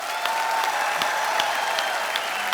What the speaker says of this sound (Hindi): मैं चाहूंगा कि जोरदार तालियों से एक बार स्वागत किया जाए